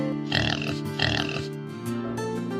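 Domestic pig oinking and grunting in two short bursts close by, with a steady low hum underneath and no talk.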